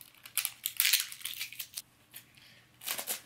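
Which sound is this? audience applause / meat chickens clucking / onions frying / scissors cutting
scissors cutting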